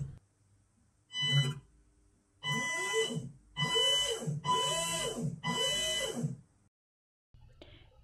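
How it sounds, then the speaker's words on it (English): A COOL9030 brushed ESC for a bait boat emits a series of clear electronic tones during calibration setup: a short double tone first, then a steady run of four longer pulsing tones, close and loud, with no talking. "we hear two short beeps."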